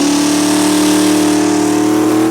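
A 203,000-mile Dodge Ram truck's boosted 5.2 V8 revs loudly and steadily up close, a sustained throaty roar that holds for a couple of seconds, then cuts off abruptly.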